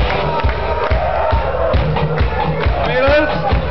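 Girls in a concert crowd scream and cheer together, a loud, dense wall of high shouting with rhythmic pulses beneath it, continuous throughout.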